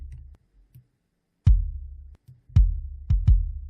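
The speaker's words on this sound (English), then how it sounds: "This one's more like an 808 sound with a lot of length to it" An 808-style kick drum sample from a trigger plugin sounds as booming low thumps with long decaying tails: a deep sustained tone at first, then about four separate hits, the last two close together.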